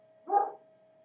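A neighbor's dog gives a single short, muffled bark at a distance, faint and brief against a steady electrical hum.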